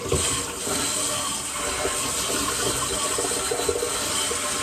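A steady rush of water pouring from a tap into a sink, continuous and fairly close, with faint clinks underneath.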